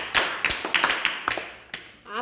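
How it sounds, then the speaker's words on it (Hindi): A class of school students clapping during a maths lesson, a short burst of sharp, uneven claps heard close for about two seconds, with some voice sounds mixed in. "ताली बजा दीजिए"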